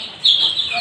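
A domestic desi hen clucks close by in a short burst, a bright call rising out of a low background hum.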